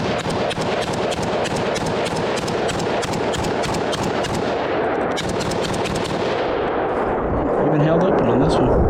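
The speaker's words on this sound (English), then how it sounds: "let's put another mag through her. Let's try the silver bear out of the SIG" A preban-style SIG SG-551 carbine on its standard gas setting fires a magazine of Silver Bear ammunition, a rapid string of loud, close sharp reports in steady succession. The shooting stops near the end, leaving ringing range ambience.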